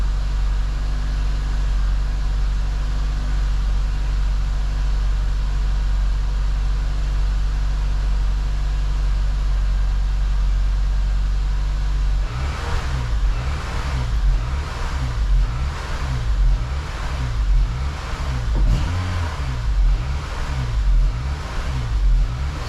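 A Honda Element engine idles with a steady low hum, then develops a weird noise partway through, a rhythmic pulsing throb that repeats evenly over the idle and carries on loudly to the end.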